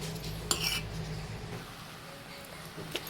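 Spoon stirring a coconut and jaggery mixture in a pan, soft scraping and a few light metallic taps close by, faint and brief, with low background hum.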